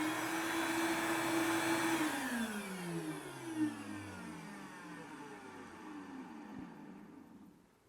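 A vacuum cleaner whirs steadily, then its motor winds down with a falling pitch as it switches off, fading to near silence.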